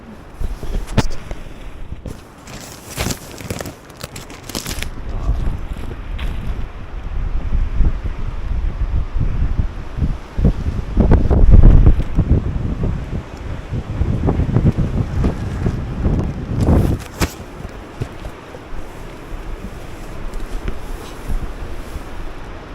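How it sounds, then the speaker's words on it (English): Strong wind at a winter wild campsite in the Northumberland hills, loud rumbling gusts buffeting the microphone in surges that rise and fall, heaviest midway, with no talking. "It's nothing much, it's just a lot of wind."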